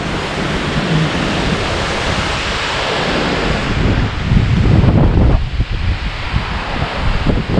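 Powerful wind gusts of over 70 mph buffeting the microphone on the summit of Guadalupe Peak, a loud, constant roaring rumble that surges and pulses in the second half, with no voices.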